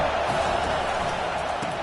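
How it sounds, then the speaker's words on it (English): A college football stadium crowd during a game, a dense continuous roar of distant voices and cheering with no single sound standing out. "This crowd rising up, sensing that his defense needs some help."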